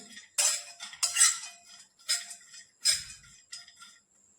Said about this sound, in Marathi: कढई आपली गरम आहे त्यामुळे खोबरं असं सारखं हलवत आपल्याला भाजून घ्यायचं आहे